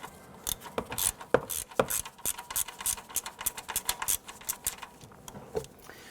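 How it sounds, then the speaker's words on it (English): Ratchet wrench with an extension and shallow socket loosening a 13mm bolt on a 2007-2014 Cadillac Escalade front ride height sensor, giving rapid irregular clicking bursts close up, with no talk. "This is going to be a 13mm. We're going to use an extension with a shallow socket."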